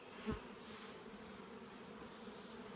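A steady, low insect buzz from many honeybees in a hive box fills the clip, close and continuous, with a brief louder thump near the start.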